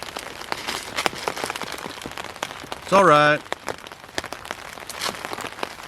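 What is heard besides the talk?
rain starting to fall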